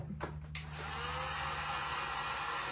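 A hair dryer blows steady hot air to dry a fresh finish on an upcycled knife block, a constant whooshing drone that stays loud and even after a couple of brief knocks at the start.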